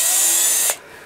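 A power drill runs steadily, boring holes for the bridge on an upgraded Squier Classic Vibe guitar, a loud close whine that cuts off abruptly near the end.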